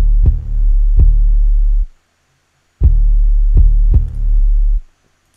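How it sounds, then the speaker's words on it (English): An 808 bass in a hip hop beat plays a single repeated note, with deep booming hits sustaining in groups of two and three and separated by a short gap of silence, loud and alone. "And then I added this 808 pattern, which it's just playing one note."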